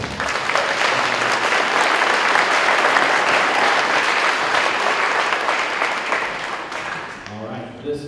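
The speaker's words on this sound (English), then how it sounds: "So can we give her a round of applause?" An audience at a sixth-grade school band concert applauds loudly and steadily for several seconds, then the clapping fades out.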